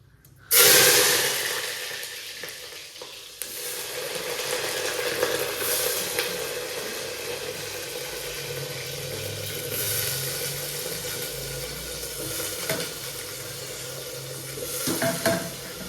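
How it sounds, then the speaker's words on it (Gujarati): Brinjal pieces dropped into hot oil already tempered with mustard seeds, cumin and asafoetida, a sudden loud sizzle that settles into steady frying with occasional stirring scrapes. "હવે રીંગણા વઘારી નાખીએ."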